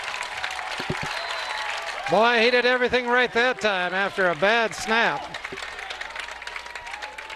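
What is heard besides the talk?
football crowd applauding a punt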